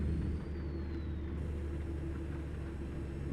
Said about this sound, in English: Definitely hear that turbo diesel engine.